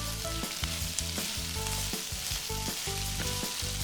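Garlic and onions frying in oil for a 1948 tamale pie, a continuous close sizzle over a low tonal hum, with repeated soft scraping knocks of stirring and no talking.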